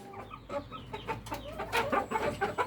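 Rhode Island Red roosters and hens cluck close by in a farm breeding flock, with a rapid run of short, overlapping clucks and calls and no talking.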